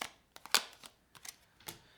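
Quiet, crisp riffles and taps of tarot cards being shuffled, a few quick flicks with short pauses between, close and soft.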